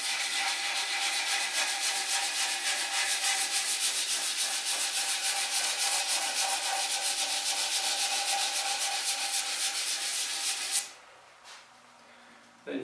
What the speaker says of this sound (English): follow up with a little sanding block with a fine paper on it.